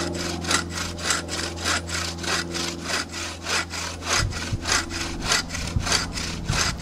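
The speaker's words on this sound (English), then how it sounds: "I'm taking full strokes on the saw all the way to my wrist." A bow saw cuts through wet pine in steady full-length strokes, each push and pull giving a rasping rhythmic rush, about a dozen even strokes close up and loud, with no talking.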